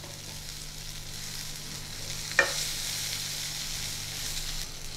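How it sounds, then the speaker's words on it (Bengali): Eggplant slices fry in a pan with a steady close sizzle and a brief stir or clink partway through, for a hilsa dish; no one speaks. "বেগুন কিন্তু খুব কড়া করে ভাজবো না।"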